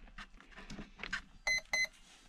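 Two short, bright electronic beeps from an electronic speed controller ring out in quick succession after a stretch of low mechanical rustling and handling noise.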